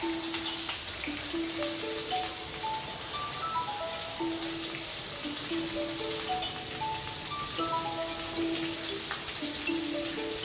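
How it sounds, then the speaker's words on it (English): Cut vegetables and baby corn sweating in oil in a pan give a steady soft sizzling crackle throughout, with quiet melodic tones running underneath, no voices. "We sweat in oil to just give a shine to the cut vegetables."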